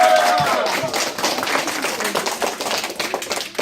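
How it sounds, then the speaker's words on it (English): Elementary school students clapping a round of applause, a close, dense patter of many small hands that starts strong and gradually tapers off over a few seconds. "Give yourself a big round of applause."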